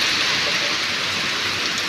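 Heavy rain pours steadily in a village during a sudden thunderstorm, a dense, close, unbroken hiss with no distinct thunderclap standing out over the short stretch.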